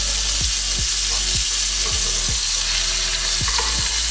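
Steak fat searing in a hot pan, a loud, dense, continuous sizzle with low thumps recurring roughly every half second, no talking.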